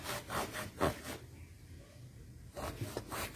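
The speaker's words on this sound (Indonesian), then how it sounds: "Gosok sampai muter-muter gitu, sampai pusing." A cloth rubs against a part of a stiff-running sewing machine in close, rhythmic scrubbing strokes, pausing briefly in the middle before resuming.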